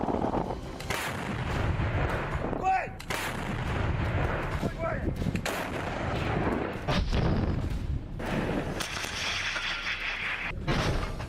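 Artillery cannon fire in the war in Ukraine: a series of heavy booms and blasts, some close and sharp, others rolling and distant, at an irregular pace over continuous battlefield noise.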